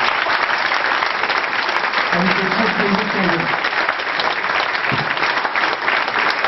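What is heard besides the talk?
audience applauding judo champion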